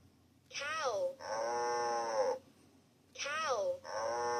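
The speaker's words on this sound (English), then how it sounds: "Cow." A cow moos twice from a children's touch-and-play farm animal sound book, each call a long, loud, drawn-out bellow separated by a short pause.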